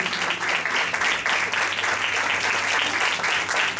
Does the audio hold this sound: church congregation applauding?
yes